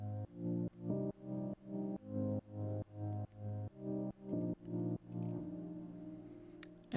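A pulsing electronic pattern of regular, rhythmic swells, each chord ducking and rising in a steady pumping beat from LFO Tool sidechaining in FL Studio 20, before fading into a sustained tone.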